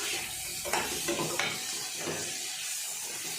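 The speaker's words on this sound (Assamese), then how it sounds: "কাটি থোৱা আলুখিনি দি দিছোঁ।" Cut potatoes tossed into a hot pan with oil for an Assamese magur fish curry, giving a steady close sizzle with a few stirring scrapes and clatters, no talking.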